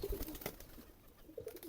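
Pigeons on a rooftop garden coo softly and briefly at close range, two short low calls a moment apart with light rustling between them.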